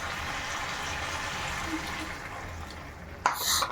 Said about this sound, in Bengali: এতে আমি পরিমাণ মতন ঝোল দিয়ে দিচ্ছি